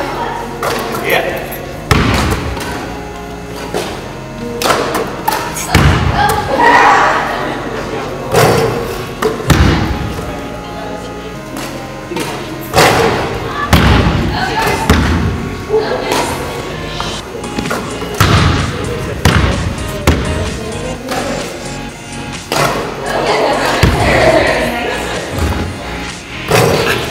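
Basketball free throws, a series of thuds from the ball hitting the rim and bouncing on the court at irregular intervals, mixed with people talking throughout.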